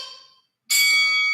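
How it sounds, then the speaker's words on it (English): A workout timer bell rings out loudly and suddenly near the end of an interval in a weight training session, a single sustained bright ring that follows a brief pause. "Keep working to the final bell."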